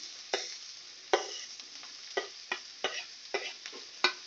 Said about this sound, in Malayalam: അപ്പം നമ്മൾ ചട്ടി വെച്ച് വെളിച്ചെണ്ണ ചേർത്ത് കൊടുത്തിട്ടുണ്ട് കേട്ടോ. അത് ചൂടായി വന്നിട്ട് അതിലേക്ക് ഉണ്ട്. അപ്പോൾ നമുക്കതിലേക്ക് സവാള കട്ട് ചെയ്ത് ചേർത്ത് കൊടുക്കാം.